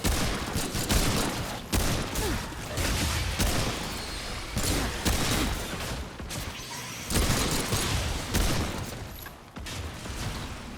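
Dense, continuous gunfire from the video game Remnant 2 rattles in rapid overlapping bursts with booming impacts, loud and nearly unbroken for the whole stretch.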